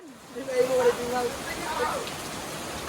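Steady rain pattering down outdoors, a dense continuous wash of drops throughout, with people talking over it in the near foreground.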